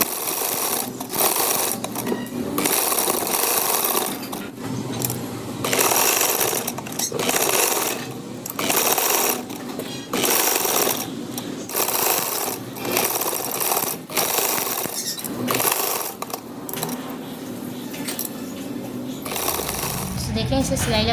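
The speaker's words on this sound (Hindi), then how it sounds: "चलो मशीन पे चलते हैं, इसे स्टिच करते हैं।" Sewing machine stitching fabric for a cut-work palazzo trouser design, running loud and close in repeated bursts of rapid mechanical chatter separated by short pauses.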